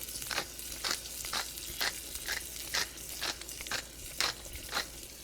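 Tomatoes and garlic sizzle in a skillet over moderate heat, a steady frying hiss punctuated by regular rhythmic stirring scrapes about every half second, close and without talk.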